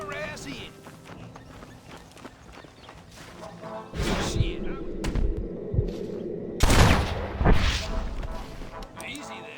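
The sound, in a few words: gunfire in a firefight in Red Dead Redemption video game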